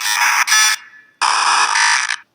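Bright, buzzy startup tone from the RGT app played through small laptop speakers, two loud harsh bursts separated by a short fading gap, sounding thin and alarm-like with no voices.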